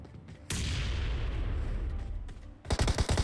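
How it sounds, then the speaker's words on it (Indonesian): Gunfire in PUBG Mobile rings out from across a river: a loud broadband blast opens a long rolling echo, then a rapid burst of several sharp shots closes the clip, with no talking. "Ada yang nembak gua dari seberang."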